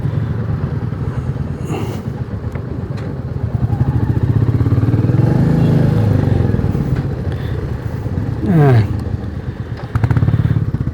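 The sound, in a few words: motorcycles riding in and being parked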